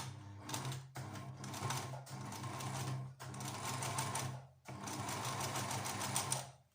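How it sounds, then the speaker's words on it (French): A sewing machine topstitches a fabric face mask with fine thread, running in long steady whirring bursts broken by brief stops, close and even in loudness, with no talk. "On repart et on finit la surpiqûre."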